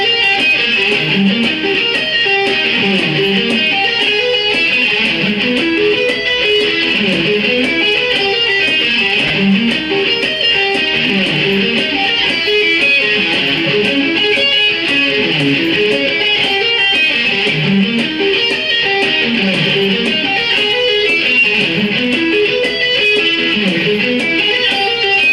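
Slow, even guitar string arpeggios cycle up and down in a steady repeating pattern, each chord shape rolled out note by note with a bright electric tone, continuous and close.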